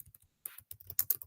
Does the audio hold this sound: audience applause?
no